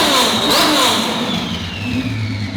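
A twin-turbo Ferrari F12 V12 on a dyno revs hard with no load toward 7,000 RPM, a loud close engine scream that rises sharply and then slowly falls away.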